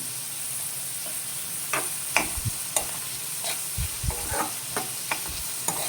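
Bitter gourd pieces fry in a pan with a steady background sizzle, while a spoon stirs them in scattered scraping clicks and knocks, close and moderately loud, with no talking.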